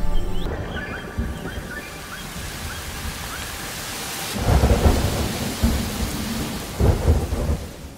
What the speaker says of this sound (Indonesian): tiba-tiba cuaca yang tadinya cerah berubah menjadi hujan deras.